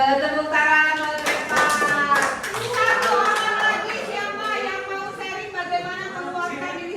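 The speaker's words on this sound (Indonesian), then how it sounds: "ada tepuk tangan buat Reva." Audience clapping for a student in a school guidance session, sharp claps bunched early and tapering off, mixed with voices and chatter from the room.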